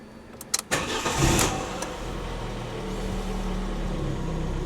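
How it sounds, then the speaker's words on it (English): A Fiat 500 engine cranks and starts with the ignition on: a short burst of starter clicks and whirring, then a rising catch into a steady, moderately loud idle, with no talking. "we're now going to turn the ignition on, start the engine, and see what happens with the airbag lights"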